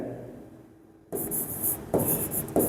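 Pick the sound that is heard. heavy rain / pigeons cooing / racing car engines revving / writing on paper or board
writing on paper or board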